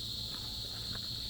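Insects droning outdoors on Guimaras island, a steady high continuous buzz held faintly over soft low background rumble.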